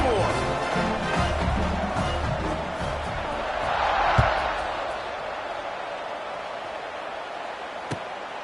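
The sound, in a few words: stadium crowd buzzing after a football score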